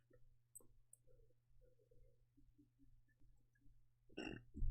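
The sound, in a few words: burp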